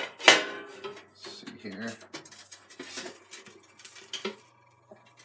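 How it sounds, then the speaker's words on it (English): Hash browns flipped in a frying pan during a home breakfast cook, giving a loud scraping clatter of utensil on pan at the start, then softer scrapes, taps and shuffling, with someone speaking briefly. "And then we'll try to flip it and get it back into the pan on the other side."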